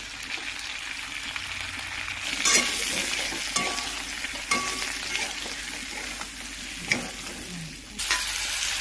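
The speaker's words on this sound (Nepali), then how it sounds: "त्यति मसला भुट्यो।" Cumin, coriander, turmeric and Kashmiri red chilli sizzle in hot oil for a homestyle mutton curry. The frying is steady and fairly quiet, broken by repeated scraping stirs of a spoon in the pan.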